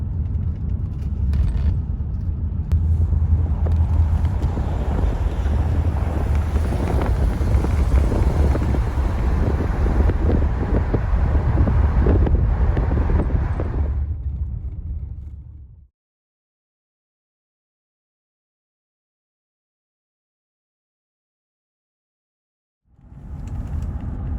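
A Bentley on old tyres cruises at 40 kph on a tarmac road, making a loud, steady low rumble of road and tyre noise that cuts out for several seconds, then returns.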